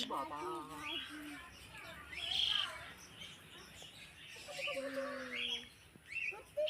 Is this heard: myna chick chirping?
yes